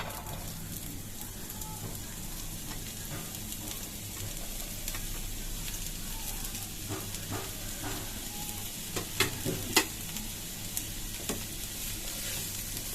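Chopped onions frying in a pan for a chepa shutki bharta make a constant close sizzle, with scattered spatula clicks and scrapes growing sharper toward the end.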